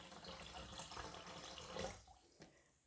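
Water pours from an Alexapure water filter into a container, a faint, brief trickle and splash that cuts off near the end.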